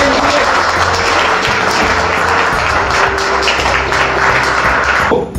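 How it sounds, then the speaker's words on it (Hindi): Students in a mobile repairing institute classroom clap loudly and steadily in a dense, continuous burst that stops abruptly at the end. "28 अप्रैल के बैच के स्टूडेंट के पास जोरदार ताली"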